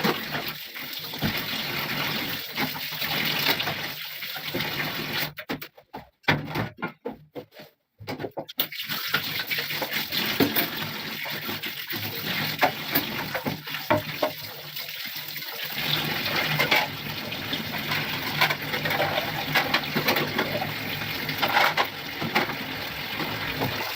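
Water runs steadily from a tap into a sink during dishwashing, a continuous broadband rush that breaks off briefly partway through before resuming.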